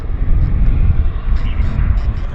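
A single aircraft taxiing at Vancouver International Airport (YVR) gives a loud, steady, broadband engine roar that dominates throughout, with no speech over it.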